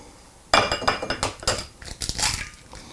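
A bowl is grabbed and handled in a home kitchen while making a sweet potato shepherd's pie, giving a sudden burst of clinks, knocks and rattles of dishware that fade into lighter taps.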